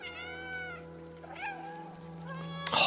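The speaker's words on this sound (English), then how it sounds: "Press B to meow." A cat meows in the video game Stray, giving a clear, drawn-out meow and then a shorter one over a steady electronic game hum, ending in a brief noisy burst.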